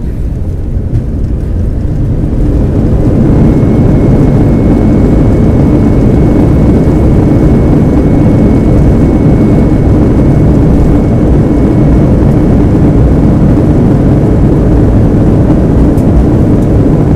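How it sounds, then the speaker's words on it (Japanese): Airliner cabin during the final descent into Delhi's Indira Gandhi International Airport, a loud steady low roar of engines and airflow filling the whole stretch, with no talk. "まさしく眠らない空港、デリーの空港に間もなく着陸です。"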